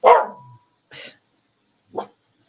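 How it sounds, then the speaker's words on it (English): A pet dog indoors lets out three separate sharp barks spaced about a second apart, close and loud against an otherwise quiet room. "sorry about my dog."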